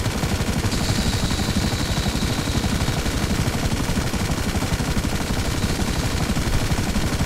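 Continuous rapid machine gun fire in GTA Online rattles without pause, a dense, steady burst of shots under constant noise.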